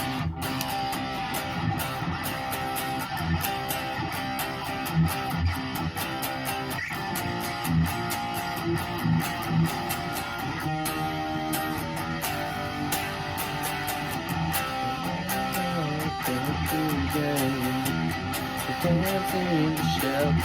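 Distorted electric guitar plays a song's chorus, a dense sustained wall of power chords over steady drums, loud and continuous with no talking.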